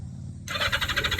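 Starter relay on a 1982 Yamaha XJ750 motorcycle clicks in, followed by the starter cranking the engine in a steady, pulsing whir that runs loud and close to the end, with no voices.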